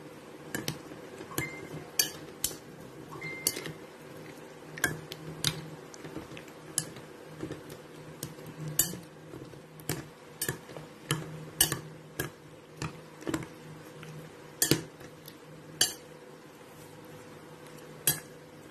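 A utensil stirs pork seasoned with black pepper in a pan: sharp, irregular metallic clinks and taps every second or so over a quiet steady background hum, close by and with no talking.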